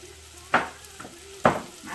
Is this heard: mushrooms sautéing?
yes